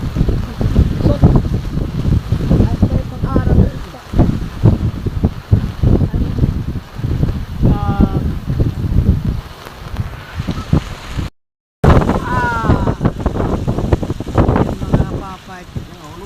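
Strong wind gusts hard enough to break an avocado tree outdoors, a loud continuous roar and buffeting against the microphone lasting throughout, with people talking over it.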